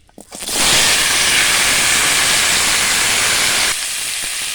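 Hog plums hit hot oil tempered with five-spice, bay leaf and dried red chilli, setting off a sudden loud, broad sizzling hiss that holds steady up close before easing slightly near the end.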